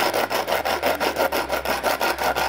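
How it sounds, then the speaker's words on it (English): A metal bolt end is rubbed back and forth on sandpaper, giving a steady rhythmic scraping of about ten strokes, close and fairly loud with no talk. "And running that on some sandpaper will probably do that for me."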